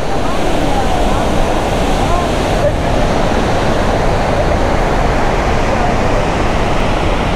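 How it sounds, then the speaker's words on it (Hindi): Bahuti Waterfall in Madhya Pradesh roaring loudly and steadily, a dense unbroken rush of falling water heard up close, with wind buffeting the microphone throughout. "एक फॉल इधर से आ रहा है"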